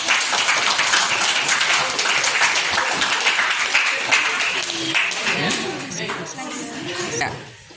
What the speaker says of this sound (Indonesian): Bagus, tepuk tangan di dek.